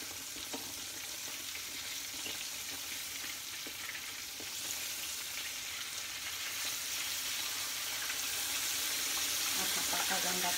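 Cooking oil heating in a pan before frying boneless bangus gives a steady, faint sizzle with soft crackles that grows a little louder toward the end.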